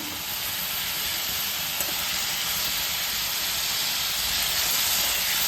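Tomatoes fry in a pan for sambar, a steady hissing sizzle that holds at an even level for several seconds, with no talking over it.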